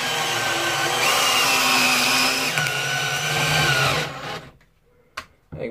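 A Ryobi R18PD3 cordless impact drill driving a sharp 6x120 carpentry screw into wood, a loud steady motor whine for about four seconds before it cuts off, followed by a couple of small knocks.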